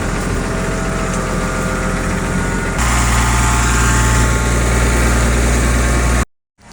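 An IH 5288 tractor engine runs steadily while driving toward the shop, a loud, continuous low rumble with a deep hum that grows heavier partway through before cutting out abruptly at the end.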